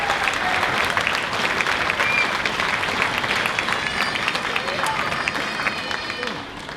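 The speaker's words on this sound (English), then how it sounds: "could I have a round of applause for you guys for helping us?" Sustained, dense applause fills a school hall at a 5th and 6th grade spring string concert, an audience clapping for the parents with a faint crowd murmur beneath.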